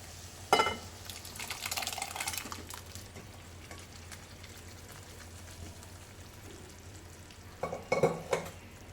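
Dal being stirred into boiling gravy in a pot while cooking dal makhani; a soft bubbling sizzle runs throughout, with brief scraping stir bursts near the start and again near the end.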